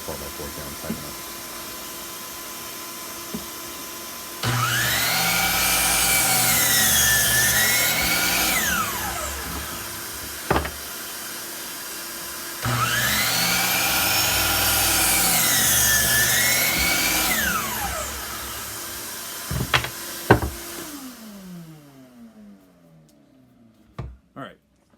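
A Ridgid R4231 12-inch compound miter saw spins up and cuts through a wooden 4x4 twice, each pass a loud, sustained whine lasting several seconds, followed by a few sharp knocks and the blade winding down.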